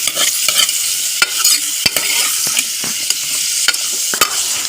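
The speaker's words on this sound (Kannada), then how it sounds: "ನೋಡಿ ನಾನಿವಾಗ ಮಿಕ್ಸ್ ಮಾಡ್ಕೊಳ್ತಾ ಇದ್ದೇನೆ. ಚೆನ್ನಾಗಿ ಇದು ಫ್ರೈ ಮಾಡ್ಕೊಳ್ಬೇಕು ನೀವು ಕೂಡ." Carrots fry in hot oil as a spoon stirs them, a loud, close, continuous sizzle broken by sharp scrapes and clicks against the pan, with no voices.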